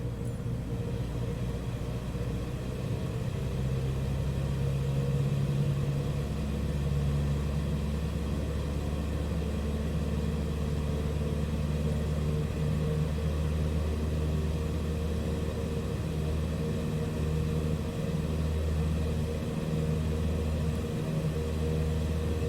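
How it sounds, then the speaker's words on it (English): A Cessna 152 piston engine in Microsoft Flight Simulator 2020 throttles up to 2400 RPM, a loud, steady propeller drone with a low rumble that holds with little change and no talk. "let's throttle back up to 2400 RPM"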